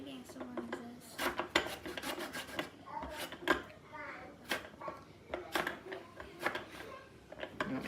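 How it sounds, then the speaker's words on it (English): A lemon is scraped over a grater in short, uneven rasping strokes, close and fairly soft, mixed with children's and adults' voices talking in a home kitchen. "Yay, I'm finally getting some lemon zest."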